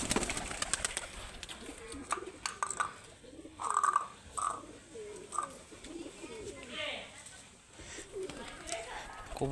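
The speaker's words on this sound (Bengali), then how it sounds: "কবুতর সব সামনেই রয়েছে," Pigeons cooing while gathering at a stairwell doorway to be fed, soft low coos scattered through the scene with a voice talking and calling to them.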